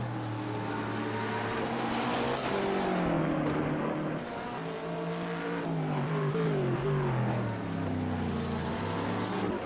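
McLaren GT3 race car engine through the Laguna Seca corkscrew in a racing game, a loud harmonic engine note rising and falling through gear shifts, with revs dipping into the turn and climbing again.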